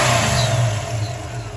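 Loud, steady engine roar from a 408-swapped 1974 Dodge Dart Sport as it revs, a deep continuous rumble up close, easing slightly toward the end.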